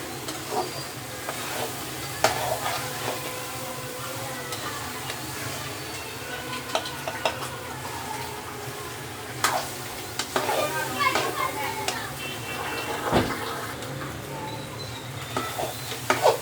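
Black chickpeas roast in a pan for a long stretch, giving a continuous sizzle with frequent scraping and stirring strokes and occasional clinks of a utensil against the pan, close and fairly loud throughout.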